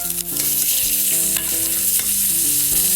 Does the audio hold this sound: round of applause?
no